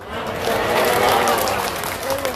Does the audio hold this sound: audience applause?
yes